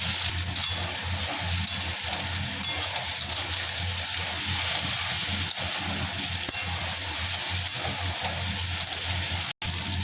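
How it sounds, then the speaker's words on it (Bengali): Tomatoes frying in a pan for a Bengali ilish fish curry, a steady loud sizzle that runs without pause close by and cuts out briefly near the end. "এখন দিয়ে দিচ্ছি টমেটোগুলো, দিয়ে দিচ্ছি, ভেজে নেব।"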